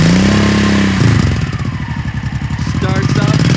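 A 1994 Honda Shadow 1100 V-twin cruiser motorcycle fires up and settles into a loud, close, lumpy idle with a steady pulsing beat, with no talking.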